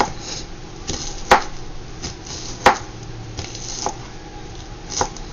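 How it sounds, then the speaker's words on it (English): A knife chops white onion on a cutting board for shrimp fried rice, with several firm, irregular thunks and a few softer cuts over faint room noise. "You see how I just cut the white onion?"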